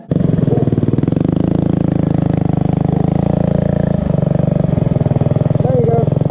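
A small mini bike engine runs steadily up close with a buzzy, rattling drone at a constant pitch, while people talk over it.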